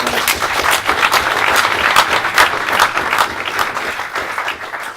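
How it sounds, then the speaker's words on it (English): A crowd claps steadily for several seconds, loud and sustained, tapering slightly toward the end with no one speaking over it, at an awards night. "Let's give them a round of applause."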